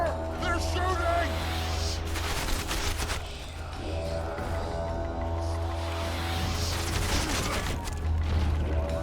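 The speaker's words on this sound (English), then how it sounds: "Take cover! They're shooting!" Bursts of gunfire and booming impacts rattle through a battle scene in The Witcher 2, loud volleys spread across the stretch over a low rumbling bed, with voices talking amid the shooting.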